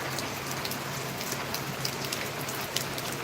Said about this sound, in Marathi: कसा पाऊस पडतो बघा